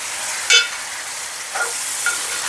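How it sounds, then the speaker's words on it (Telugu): Fried onions with salt stirred in a pan, a loud continuous hiss of frying with a few short scraping strokes of the spoon, close by. "ఒక్కసారి మంచిగా కలుపుకోండి."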